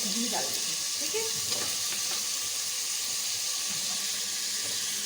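Green chillies dropped into a pot of cooking white pilaf with peas and potatoes, giving a steady, fairly loud sizzle and bubbling with faint stirring scrapes, close up and with no talking.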